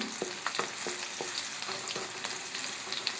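Colocasia leaf rolls (idhar) fry in a pan of oil until golden, a steady close sizzle with scattered sharp pops and crackles throughout.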